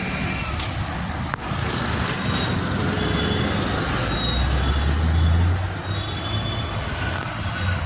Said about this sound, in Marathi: आता गाडी जस्ट निघाली आहे